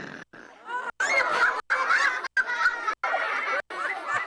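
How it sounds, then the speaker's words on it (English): Large pet parrot squawking in repeated loud, harsh honking bursts with short silent gaps between them, close and dominant with no speech over it. "Dead birds don't squawk."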